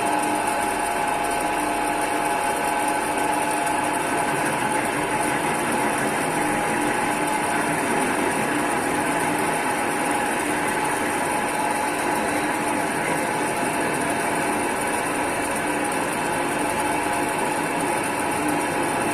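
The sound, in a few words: lathe machine running, cutting metal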